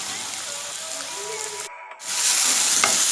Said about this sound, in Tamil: சேர்த்துட்டு நல்லா கொஞ்ச நேரம் நம்ம வதக்கிக்கலாம்